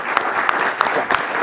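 A crowd applauds to welcome Admiral Zukunft, the Coast Guard Commandant, at a cyber strategy event: dense steady clapping with a few louder individual claps standing out, close and full, without speech.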